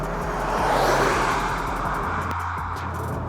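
A 2022 Škoda Kodiaq RS drives along, its engine a steady, muffled hum with road noise, continuous and moderately loud inside the cabin; the drone shifts lower partway through.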